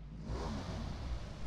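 A motorbike engine revs steadily in the PUBG Mobile video game, a continuous low droning roar that is fairly quiet and heard alone for a brief moment.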